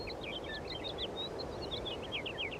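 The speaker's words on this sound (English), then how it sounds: "you just hear like the birds, you hear the wind" Faint chirping video game birds twitter repeatedly over a steady, broad rushing hiss of wind, quiet and continuous throughout, from the game Syberia.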